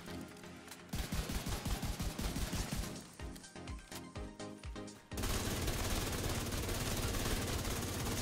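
Assault rifle fire in the Division 2 video game: rapid automatic bursts, loud and close, broken by a brief pause, then a dense sustained roar of fire to the end, with no talking.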